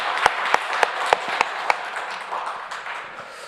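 A church congregation claps together during a Sunday worship service, six sharp unified claps in a steady rhythm that then loosen into a scattered, fading patter of applause.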